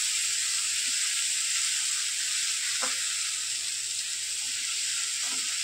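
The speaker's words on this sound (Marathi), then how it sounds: "टोमॅटो घालते आता." Tomatoes go into a snake gourd (padwal) curry in the pan, giving a steady bright sizzle with a couple of soft stirring knocks, fairly quiet and with no voices.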